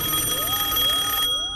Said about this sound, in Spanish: ¿Recuerdas el antiguo teléfono de casa y su clásico timbre?